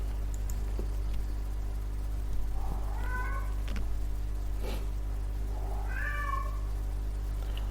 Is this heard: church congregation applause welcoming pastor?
no